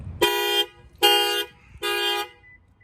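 Factory alarm on a 2020 Toyota Camry, set off by an added shock sensor when the car is banged, sounds three loud, evenly spaced horn blasts, each about half a second long with short gaps between them.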